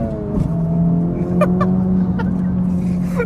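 A 2024 Acura Integra Type S pulls under acceleration on the road, its engine droning steadily and close from inside the cabin, with a few faint clicks over the top and no talk.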